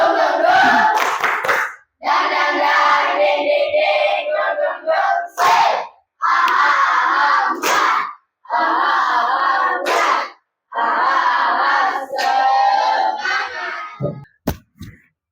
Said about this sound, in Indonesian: Kita tepuk semangat saja.